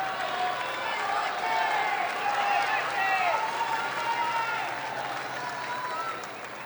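Tennis crowd at the US Open, 2021 third-round match, applauding in a steady continuous wash of clapping and murmur, with a commentator's voice running over it throughout.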